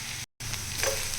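Onions and curry leaves sizzle and fry in hot oil in a pan, a steady close crackle with a brief cut to silence partway through.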